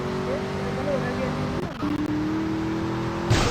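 A car in GTA Vice City drives with a steady droning engine hum that shifts pitch partway through as it changes speed, with a voice talking over it.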